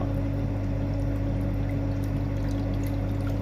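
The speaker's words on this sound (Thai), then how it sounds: "แก้วนี้ก็จะตักน้ำนะครับ จากน้ำที่ผ่านการกรองคอลีนเรียบร้อยนะครับ" Water that has been run through a chlorine filter pours steadily into a glass, a continuous close splashing stream with a steady low hum underneath.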